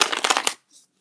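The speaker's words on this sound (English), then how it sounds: "Let's shuffle these a little bit." Tarot cards are shuffled in a quick burst of crisp riffling flicks, close and fairly loud, ending abruptly in near silence with a faint brief rustle after.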